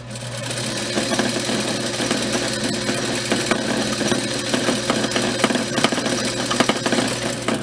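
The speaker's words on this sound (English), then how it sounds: "Now we're going to top stitch our straps." A sewing machine topstitches fabric straps for a knot dress, running with a steady, close, rapid mechanical whir and needle clatter for several seconds.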